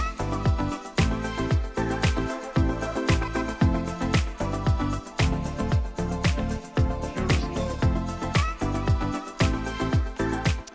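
Layered synthesizer parts play together over a steady, pulsing beat, with sustained pads and sharp rhythmic hits repeating evenly throughout.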